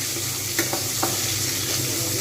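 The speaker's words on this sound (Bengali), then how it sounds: "এবারে আরও এক ফিট ভেজে নেব" Pieces of rohu fish frying in hot oil for Bengali doi pona, a close, loud, continuous sizzle with a few faint stirring taps.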